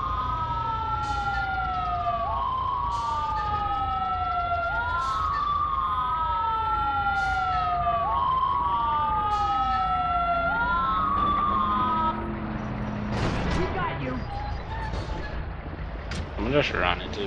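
Ambulance siren in GTA V with the LSPDFR police mod, a loud wailing sweep cycling steadily for about twelve seconds, then giving way to traffic and crash noise with brief shouting.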